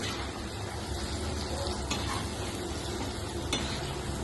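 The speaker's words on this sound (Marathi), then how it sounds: "हे सर्व आपण सामग्री तेलामध्ये चांगलं आपण परतून घेणार आहोत" Peanuts and spices sauté in hot oil, a continuous frying sizzle with occasional scrapes and stirring clicks, close and fairly loud throughout.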